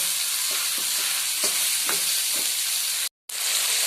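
Chicken mince frying in a pan, a dense steady sizzle with several soft spoon scrapes and stirs, cut by a brief total silence near the end before the sizzle resumes.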